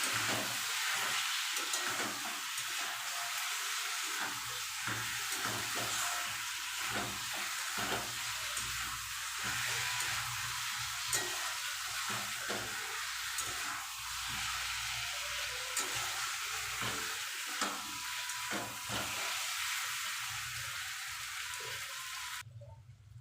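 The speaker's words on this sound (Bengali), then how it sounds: "তারপরে দেব কাঁকড়ার তেলগুলো ভালো করে কষাবো" Crab pieces sizzle loudly in hot oil in a pan for a long stretch, with repeated scraping stirs of a spatula. No voices.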